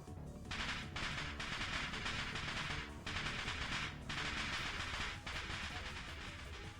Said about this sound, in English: sound like firecrackers resound from the other side of the door